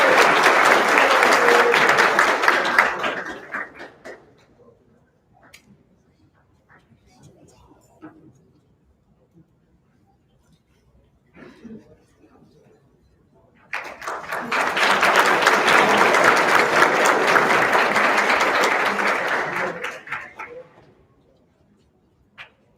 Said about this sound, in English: with a big round of applause, Mr. Nathan Adams.